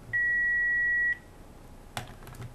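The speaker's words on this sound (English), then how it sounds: "Turn my answering machine off." Answering machine emitting a single steady electronic beep lasting about one second as it is switched off, followed by a faint click and quiet room sound.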